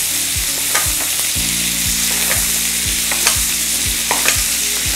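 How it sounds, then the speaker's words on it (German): A turbot fillet pan-frying with a lightly crushed garlic clove over medium heat in a restaurant kitchen, giving a loud, close, continuous sizzle with regular soft clicks from the pan and no talking. "Mittlere Hitze angebraten und dann legen wir da noch gleich ein Knoblauch, einfach nur ein Stück Knoblauch,"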